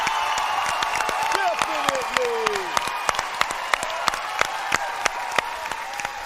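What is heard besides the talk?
studio audience cheering and applauding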